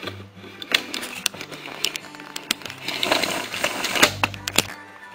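Typing on a Kiano Elegance 9.7 tablet's attached keyboard, a quick irregular run of sharp plastic key clicks and taps, close and fairly loud, with a faint low hum in places.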